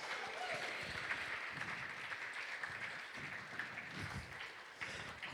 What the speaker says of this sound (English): Ladies and gentlemen, a huge round of applause for Max.